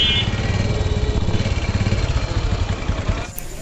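A Bajaj motorcycle engine starts and runs with a steady, close, rumbling put-put idle that continues almost to the end before dropping off slightly, with a brief high click near the finish.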